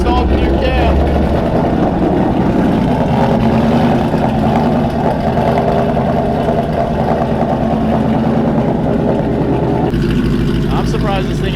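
A Gen 3 Coyote engine with a Whipple supercharger idles after a new cam install, a loud, steady, rumbling idle close by that continues throughout, with people talking over it.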